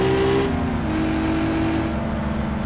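A car engine drives along in the game My Summer Car, with a steady droning hum. Its pitch dips and settles as the revs shift, and no voices are heard over it.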